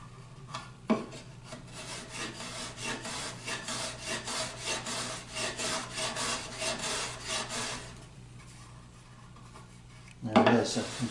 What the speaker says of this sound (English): take some light passes with this one. And this just takes really fine shavings.